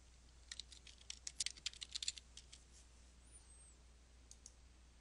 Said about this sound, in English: type in your reply